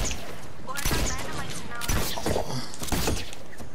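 Shotgun fire rings out in a Fortnite match as several loud, sharp blasts spaced about a second apart, each with a heavy boom. They come amid busy in-game noise and someone talking.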